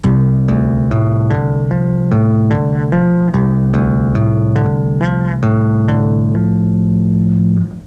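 Bass guitar played with slap, pop and tapping technique, a loud close rhythmic pattern of plucked and tapped notes alternating between low and higher pitches, repeating steadily before ringing out.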